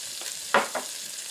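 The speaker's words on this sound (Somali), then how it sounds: "hilibkeeni suugadu way noo shiilmatay" Meat sauce for pasta fries in a pan with a soft steady sizzle, broken by a few sharp stirring scrapes in the middle, close and without voices.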